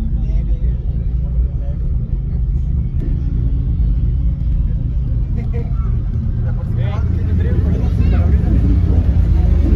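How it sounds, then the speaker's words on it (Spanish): Eight Evox 1500-watt subwoofers in a car's acoustic box pound out deep, loud continuous bass, a heavy low rumble filling the whole stretch with steady pressure and a voice speaking over it. "aquí está la caja acústica con los ocho subwoofers les decía que son Evox de 1500 watts cada uno de ellos"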